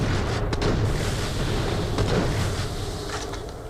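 Shotgun fire in a video game: a few heavy booming blasts sit inside a dense, roaring wall of broadband game noise, loud and close throughout.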